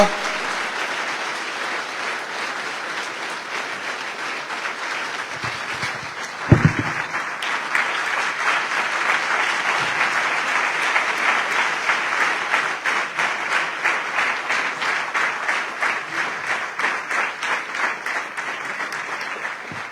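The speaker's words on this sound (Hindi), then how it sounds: "हम जोरदार तालियां बजाएंगे खुदा के खादिम, खुदा के दास पास्टर सूरज जी के लिए। जोरदार तालियां।" Loud, sustained applause from a church revival convention audience in Sharjah, dense clapping that turns into a rhythmic, unison beat partway through, with a brief thump and no talking.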